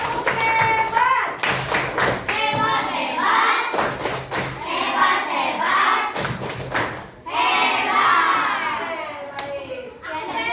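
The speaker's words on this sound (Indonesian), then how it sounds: "tepuk tangan. Tepuk hebat." A classroom of children claps hands in a patterned class cheer: bursts of sharp, rhythmic clapping come in groups, separated by children's chanting and voices.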